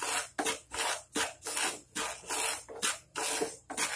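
Salt is dry-roasted in a pan over a low-to-medium flame for Gujarati mango pickle. About eight rhythmic, close scraping strokes rasp as a spoon stirs the grains back and forth.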